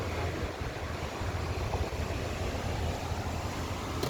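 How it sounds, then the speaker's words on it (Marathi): Seawater washes over Mumbai's coastal road at high tide during heavy rain, a continuous broadband rush of surf and wind noise with a faint rumble of vehicles pushing through the water. "कोस्टल रोडवर समुद्राचं पाणी आलेलं आहे"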